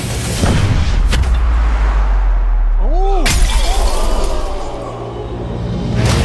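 A kicked ball smashes a heart-shaped prop during an elimination game in a large studio, a loud crashing shatter midway, with earlier thuds and a continuous noisy background.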